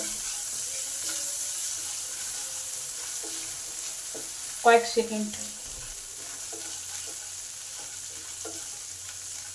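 A broken green chili and black cumin seeds fry in hot oil for a fish curry, a steady crackling sizzle under a brief spoken remark.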